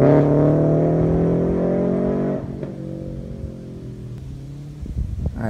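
A Subaru BRZ / Toyota GT86 with an aftermarket exhaust takes off, its loud, close engine note droning strongly and then easing as the car pulls away into the distance.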